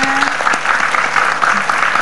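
A television studio audience claps steadily in a dense burst of applause, loud and close.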